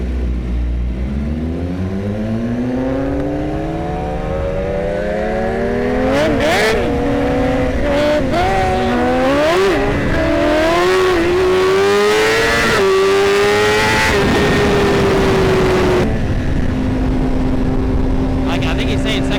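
A BMW S1000RR superbike revs hard at a motorcycle meet, its loud engine climbing repeatedly through sharp rising and falling pitch sweeps before settling into a steady high idle, with crowd chatter underneath.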